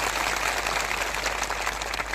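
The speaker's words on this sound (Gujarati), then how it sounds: "સૌ માટે એકવાર જોરદાર આપણે તાળીઓ પાડી લઈએ." A crowd of thousands at an outdoor Save Aravalli protest rally claps together, a continuous, dense patter of hands heard through a steady low hum, moderately loud and even from start to finish.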